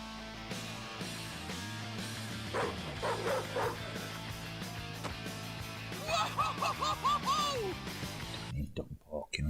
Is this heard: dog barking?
yes